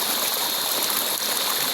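River water flowing at Laya River in Candulawan, Talisay City, Cebu, a dense, steady rushing wash that fills the whole moment, close and without pauses or voices.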